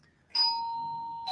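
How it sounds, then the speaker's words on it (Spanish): A doorbell rings a single clear electronic chime that sustains and fades, heard close against a quiet room, with a second chime starting at the end. "pero están tocando el timbre"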